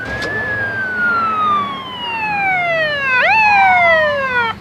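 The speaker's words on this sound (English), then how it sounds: "we noticed a police car flying around the corner, lights and siren" A police car races past with its siren wailing, a loud, close tone gliding slowly downward before snapping back up into a fresh rising sweep, with engine and road noise beneath.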